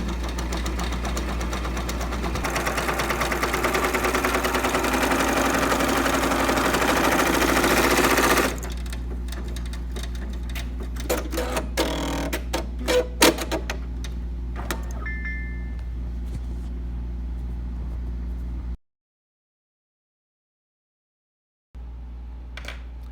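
A Brother PRS100 embroidery machine stitching an applique hums in a steady, fast mechanical whir for several seconds, then gives way to scattered clicks and knocks as it stops, followed by silence.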